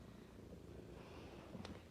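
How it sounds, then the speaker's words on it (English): A cat in a snug harness purrs softly in a low, continuous rumble up close, quiet throughout with a small bump at the end. "She's purring."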